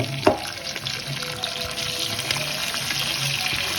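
Onions fry in a pan with a soft, continuous sizzling hiss that holds steady throughout, and a single sharp clink comes just after the start.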